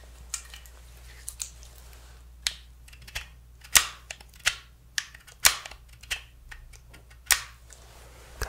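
A SIG B365XL pistol being handled, unloaded, gives a series of sharp, close metallic clicks and clacks at irregular intervals, distinct and fairly crisp against a quiet background.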